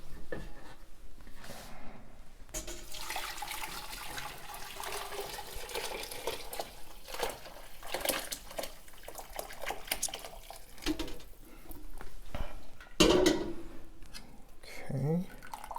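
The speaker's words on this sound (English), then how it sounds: "we're going to strain our stock through that into another large pot" Chicken stock is poured through a fine-mesh conical chinois strainer into a large pot with a steady wash of splashing and trickling liquid, while a voice talks over it.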